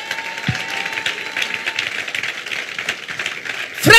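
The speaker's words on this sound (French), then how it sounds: "Est-ce qu'on peut les acclamer, ces tribunes-là?" A church seminar audience applauds the patriarchs with steady, dense clapping at moderate loudness that continues throughout and swells sharply at the very end.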